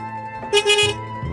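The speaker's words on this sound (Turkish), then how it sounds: "Korna sesleriyle uyandım." A short car horn blast sounds close by, a brief bright honk lasting under half a second amid low street noise.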